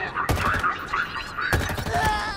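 Assault rifle fire in the Halo video game: two short bursts of rapid gunfire about a second apart, loud and close, layered over a continuous game soundtrack and ambient effects.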